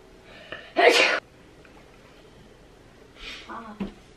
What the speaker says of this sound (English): He's gonna sneeze.